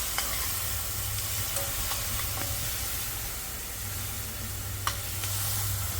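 Hot pepper being stirred into a pan of food that sizzles and fries steadily throughout, with a constant hiss and a few faint utensil scrapes, no voices.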